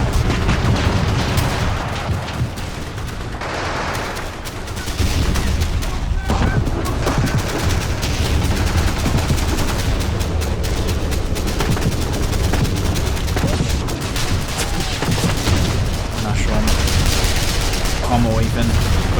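Sustained machine gun bursts and scattered gunfire from a crewman on a tank's front MG in the WWII strategy game Men of War, loud and dense throughout with booms mixed in and a voice talking over the battle.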